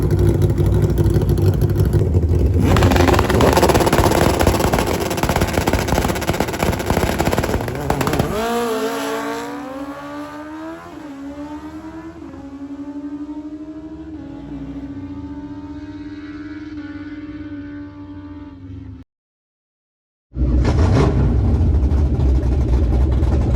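Dodge Demon 170 and a twin-turbo Mustang with engines roaring loudly at close range, a hard rev then a rising, pitch-sweeping acceleration that fades, a brief silence, then another loud burst.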